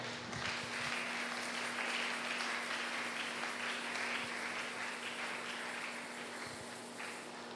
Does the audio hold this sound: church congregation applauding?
yes